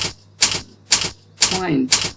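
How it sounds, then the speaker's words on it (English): Typewriter keystrokes used as a typing effect for text animation, made up of five evenly spaced, loud, sharp clacks about half a second apart. A voice briefly overlaps one strike. "One by one typing letters."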